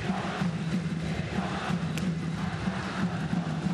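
Baseball crowd noise at a World Baseball Classic pool game between Chinese Taipei and the Netherlands, a steady roar of fans rising as the batter strides to the plate, dense and continuous with scattered shouts.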